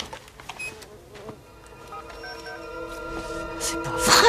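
Bees swarm in a film scene, a faint, thin buzzing drone that gradually thickens and swells louder toward the end over quiet background noise.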